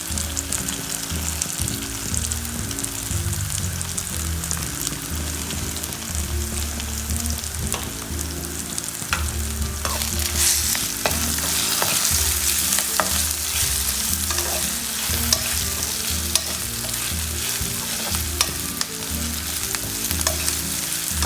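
Curry leaves and a pinch of asafoetida hit hot oil as a tempering for sambar, giving a steady, close sizzle and frying crackle with occasional stirring scrapes throughout.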